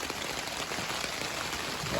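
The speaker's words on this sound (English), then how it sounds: "That's the kind of rain that would wet you." Steady rain falls outdoors in Lincolnshire, England, hissing evenly and densely across the whole stretch as drops patter on surfaces nearby, with no voices.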